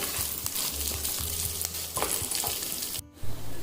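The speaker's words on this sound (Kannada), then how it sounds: "ಸ್ವಲ್ಪ ಕರಿಬೇವು ಸೊಪ್ಪು ಹಾಕ್ಬಿಟ್ಟು ಚೆನ್ನಾಗಿ ಫ್ರೈ ಮಾಡ್ಕೊಳ್ಳೋಣ" Curry leaves and garlic frying in a pan give off a steady, close crackling sizzle with stirring scrapes, punctuated by a brief gap before the sizzle resumes.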